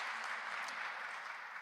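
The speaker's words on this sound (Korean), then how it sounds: "박수로 환영하겠습니다" A church congregation claps to welcome a guest during a service, a soft, even patter of applause heard faintly from a distance for a brief moment.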